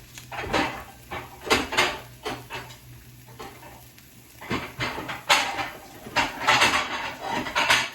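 Plate taken out in a home kitchen while cooking beef egg foo young, with several sharp ceramic and metal clinks and knocks in irregular bursts, close by over a faint background hum.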